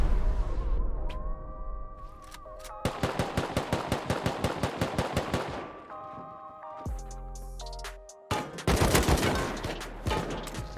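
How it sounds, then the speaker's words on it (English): Rapid automatic turret gunfire in the video game Rust during a snowy wipe-day raid, loud bursts of evenly spaced shots cracking out in a steady rhythm, pausing, then resuming, with other game sounds in between. "did the turret shoot me from that far?"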